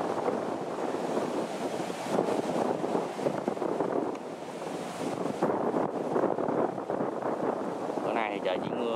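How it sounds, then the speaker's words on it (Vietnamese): Strong wind buffets the microphone steadily outdoors on a rainy, overcast day during a harvest, a loud continuous rumble and hiss that fills the whole stretch, with faint sounds of a machine underneath. "mà gió quá trời gió có ồn anh em thông cảm ha"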